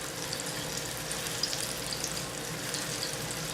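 Ripe yellow plantains fry in hot oil for Puerto Rican maduros, giving a steady, dense sizzle and crackle that holds at an even level throughout with no talking.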